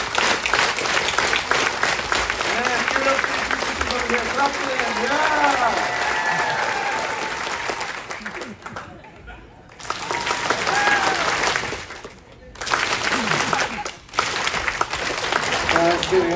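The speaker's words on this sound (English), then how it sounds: "what you have just done is called the pati, the high sounding clap" Audience at a Hawaiian and Polynesian show clapping the pati, a high-sounding clap, with dense, loud applause broken by short pauses and a voice talking over it.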